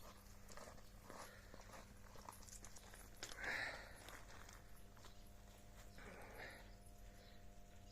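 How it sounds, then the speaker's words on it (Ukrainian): Faint hooves clip-clop at a walking pace in the distance over steady outdoor background noise, with a brief higher call midway. "У нас хлопці гоні коні на пашу"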